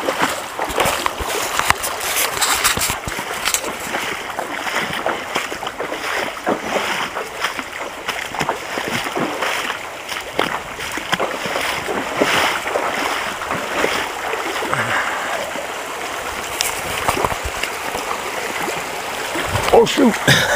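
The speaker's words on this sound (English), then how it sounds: "pretty much got to walk in the water just to avoid the poison ivy that's up on the trails" Someone wades through the shallow Escalante River in a canyon, feet sloshing and splashing steadily through flowing water for about twenty seconds, with a voice now and then over the water.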